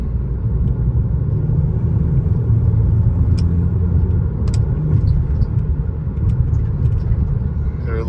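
Steady close engine drone and road rumble inside a Kia K5 GT-Line AWD with the windows up, its turbo spooling through a Spectre 3-inch aluminum inlet pipe and recirculating without a blow-off valve, continuous with no talk.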